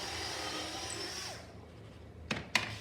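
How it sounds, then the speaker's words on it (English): A power drill bores holes through a wooden floating nightstand being mounted on a wall stud. Steady, close whirring grinds for over a second, then winds down, followed by two sharp knocks. "Drill those holes all the way through now."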